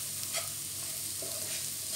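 Pepper sizzles and is stirred in hot oil while being sautéed for bistek bangus, a steady close frying hiss with scraping stir sounds throughout and no talk.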